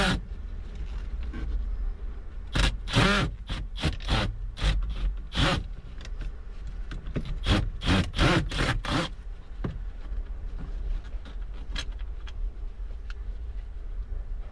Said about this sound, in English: Again, put your Phillips screwdriver and undo them.